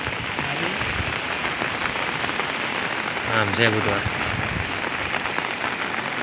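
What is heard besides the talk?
rain falling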